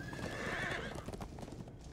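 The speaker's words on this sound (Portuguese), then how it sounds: "Cavalos, pô." Horses in the Minecraft Story Mode video game whinny loudly and close, with steady clip-clopping hooves running underneath throughout, no speech.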